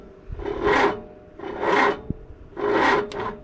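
A Triumph Spitfire starter motor with a weak battery cranks in three slow, labored grinding bursts, each rising and fading with short pauses between, close and loud.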